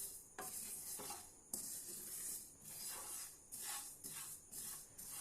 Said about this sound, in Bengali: সাদা তিলটা প্রথমে শুকনো খোলায় হালকা করে ভেজে নিচ্ছি